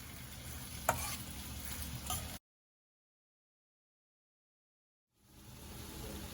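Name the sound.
curry simmering and sizzling in pan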